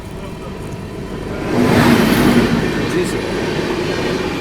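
The Lichchhavi Express (Anand Vihar–Sitamarhi) rolls in at Kanpur Central, a steady rumble of wheels and carriages swelling as it approaches, with a faint squeal and someone speaking briefly.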